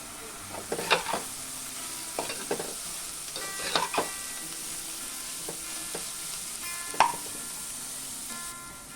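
Onion frying with salt in a pan, a soft, steady sizzle with occasional scraping stirs and clinks of a utensil, fairly close and moderately quiet.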